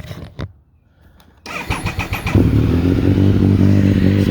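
A 1999 Triumph Sprint ST 955i motorcycle is started close by: a brief whirring crank, then the engine catches and settles into a loud, steady, throaty idle.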